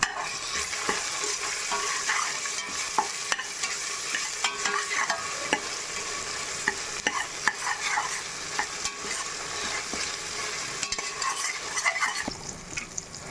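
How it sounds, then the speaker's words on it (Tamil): Ginger garlic paste sautés in a pan over a low flame, giving a steady soft sizzle with repeated scraping and stirring strokes close by, and no voices. "அடுப்பை குறைச்சி வச்சு இஞ்சி பூண்டு பேஸ்ட்டை சமமான நல்லா வதக்கிக்கலாம்"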